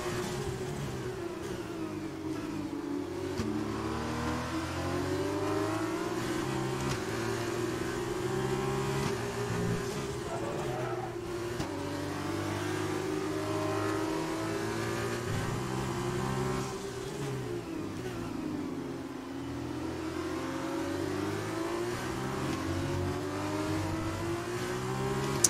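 A Formula 2 race car engine in the F2 2020 racing game revs hard and steadily as the car slides sideways on track, its rising and falling pitch sweeping continuously with no pauses for the whole stretch.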